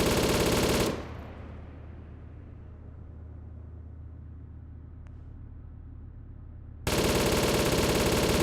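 Gunfire in the military video game Arma 3 Global Mobilization: a loud, dense burst of shooting cuts off into a long rumbling fade, then another harsh burst slams in near the end.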